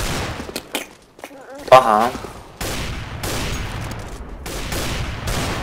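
Gunfire in Counter-Strike: Global Offensive on an AWP server: sharp rapid bursts of shots after a short quiet gap, then a sustained crackling volley, loud and close, with someone briefly speaking.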